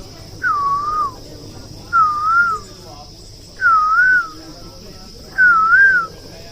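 A person whistles an imitation of a koel's call: four separate, drawn-out rising and falling notes with even gaps between them, clear and close over a faint steady hum.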